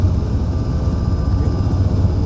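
Helicopter in the military simulation game Arma 3, a steady droning rotor and engine rumble that stays loud and constant throughout, with no talk over it.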